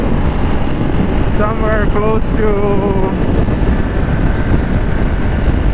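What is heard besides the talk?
wind buffeting while riding a Ducati Streetfighter V2 motorcycle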